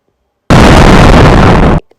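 A rocket blows up in the Spaceflight Simulator game, one loud, sudden blast that holds as a dense roar for over a second and then cuts off sharply into silence.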